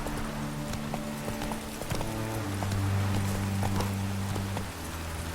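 Hooves of Roach, a horse in The Witcher 3, clip-clop in a steady rhythm close by over a low droning game background, with the pace picking up partway through.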